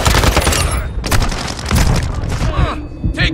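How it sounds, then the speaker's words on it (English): Heavy gunfire and booming blasts fill a Call of Duty Modern Warfare 2 firefight, loud and continuous, with rattling bursts and a radio voice talking over the din. "Taking effective fire."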